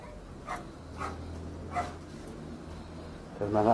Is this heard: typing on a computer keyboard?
no